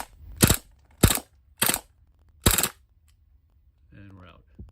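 A WE Mauser M712 airsoft pistol fires four short full-auto bursts, each a sharp, close rattle separated by brief pauses, followed by a faint tonal sound at the end.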